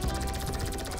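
A helicopter in the video game GTA 5 gives a steady, loud rotor chop with a fast, even pulse that fills the whole short moment, with no voices over it.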